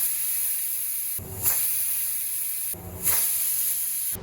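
Steam hisses steadily from a pressure cooker of chickpeas on medium heat, with two brief louder bursts where the whistle releases, close and without talk.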